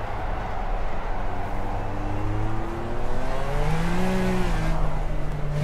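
A racing car drifts through a corner in the video game Project CARS, its engine droning and climbing in pitch, with a rising and falling whine under a steady roar that stays close and loud throughout.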